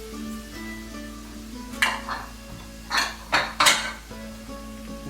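Rice goes into a pan with sautéing onions, garlic and butter for risotto Milanese and is stirred to coat it. A utensil scrapes and clacks against the pan several times over a low, steady sizzle, close by, with no talking.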